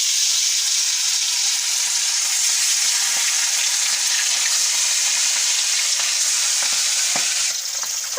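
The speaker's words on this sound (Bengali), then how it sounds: "মাছগুলোকে আমরা ভালোভাবে লাল লাল করে ভেজে নিচ্ছি" Pieces of rohu-type fish sizzle steadily in hot oil in a wok, a loud continuous frying hiss with small crackles and occasional stirring scrapes, close and unbroken, no voices.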